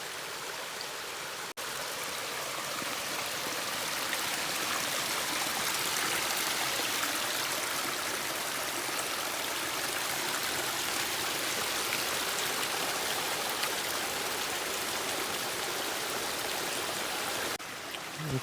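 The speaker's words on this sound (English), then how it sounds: "Water just keeps on rolling down, meets up with that one over there, and it rolls down" Stream and waterfall water at Hunt Fish Falls in the North Carolina mountains, a steady close rushing roar that runs unbroken for most of the stretch, alone without voices.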